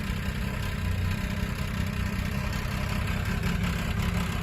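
A neglected farm machine's engine idles unevenly and steadily up close, a loud low rumble with a slight hiccuping clatter and no talking.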